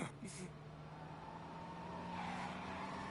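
A car approaches in the video game Mafia: Definitive Edition, a steady engine hum rising gradually over three seconds amid game ambience, with faint talk early on.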